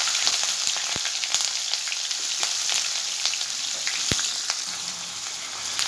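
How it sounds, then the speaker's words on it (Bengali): Ginger and cumin paste frying in hot oil in a pan for a vegetarian dhokar dalna, a steady dense sizzle with occasional soft clicks of stirring, close and continuous, no talking. "আদা আর জিরেটা একটু ভাজা হলে"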